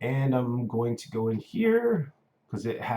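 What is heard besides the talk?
No distinct noise like a dog, phone or traffic.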